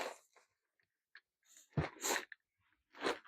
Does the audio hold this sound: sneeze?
yes